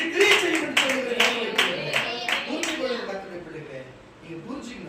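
A church congregation claps together in a burst of faith applause, loud rhythmic claps fading over several seconds amid a lively reverberant room.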